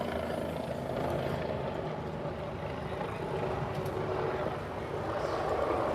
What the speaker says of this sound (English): It's a helicopter going down.